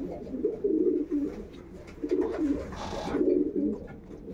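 Pigeons cooing in a loft, several soft throaty coos repeating in bursts close by over a faint background, with no talk.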